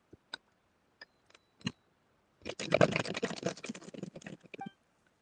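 Computer keyboard being typed on, a few isolated key clicks followed by a rapid spammed flurry of clattering keystrokes, close and crisp in an otherwise quiet room.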